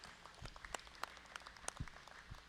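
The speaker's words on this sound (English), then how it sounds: "let's give him a big round of applause for the job he's done here today" Applause from the audience at a sheep and goat show ring, a thin scattering of claps heard faintly and at a distance, irregular and brief.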